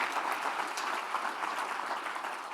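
Audience at a city's State of the City address applauding as honorees stand, a dense, even patter of many hands clapping at moderate distance, with no voices over it.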